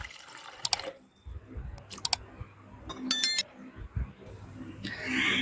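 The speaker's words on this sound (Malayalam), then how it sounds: "ഇനി ഇതിലേക്ക് നല്ലവണ്ണം തിളച്ച വെള്ളം ചേർത്ത് കൊടുക്കാം." Boiling water is poured over rice ada in a vessel for Kerala-style ada pradhaman. Scattered splashes and clinks of utensils lead to a fuller, rushing pour near the end, heard close and without speech.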